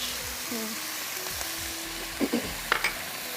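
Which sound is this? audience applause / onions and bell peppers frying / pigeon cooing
onions and bell peppers frying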